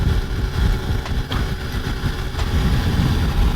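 A sport motorcycle engine at a bike rally, a loud steady running drone close by with a few brief surges, no talking.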